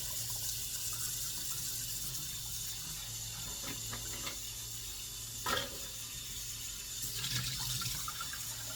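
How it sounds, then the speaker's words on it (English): Cold water runs steadily through a funnel into a hummingbird feeder, a continuous soft pouring hiss with a couple of brief louder gurgles, close by and with no one talking. "And then the rest is going to be cold water going in."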